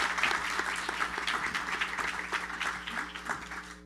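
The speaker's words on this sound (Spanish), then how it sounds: "un aplauso para todos ustedes." Audience applause at a public forum event, dense steady clapping from many hands throughout, moderately distant and even in level.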